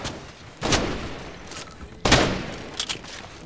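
Video game gunfire comes in two loud bursts about a second and a half apart, followed by a few fainter shots near the end, with a low background hum between them.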